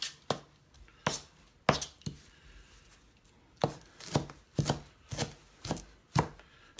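A knife chopping beef into rough pieces for fajitas on a cutting board, a dozen or so sharp thuds in an uneven rhythm, close and clear against a quiet kitchen background.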